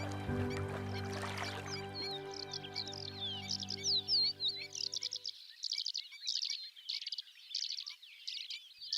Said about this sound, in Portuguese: Salinas e sapais dão abrigo a várias espécies de aves.